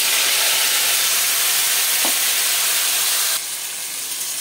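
Cauliflower frying in white oil with cumin and nigella seeds, a steady broadband sizzle throughout, with a soft clink near the middle and the hiss dropping slightly toward the end.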